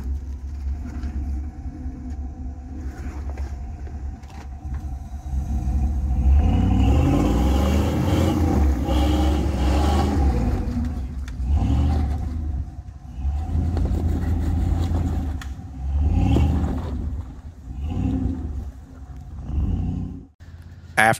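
Jeep engine revving hard as it climbs a rocky off-road obstacle, a loud, sustained rumbling roar with repeated throttle surges and deep low-end growl, close by.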